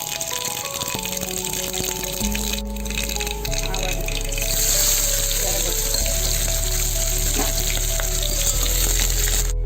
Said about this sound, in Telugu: ఫ్రై చేసేదానికి కూరకి ఆవాలు, కొంచెము మెంతులు, జీలకర్ర, ఎర్రగడ్డలు, కరివేపాకు, ఒక పచ్చిమిరపకాయ.